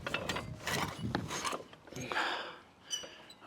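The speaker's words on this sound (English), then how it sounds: "I'm ready to shove my spindle back in, which is all greased up and ready to go." A greased wheel spindle on a Suzuki DL1000 motorcycle is shoved back through the rear hub, giving a run of close metallic clicks, scrapes and rubbing knocks in short irregular bursts.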